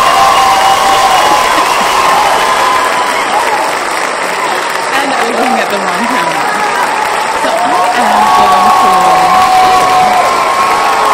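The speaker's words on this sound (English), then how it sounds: "So I'm going to stop that cheering" Canned cheering-crowd sound effect fired from a podcast media soundboard, loud applause and shouting voices filling the whole stretch while someone talks over it.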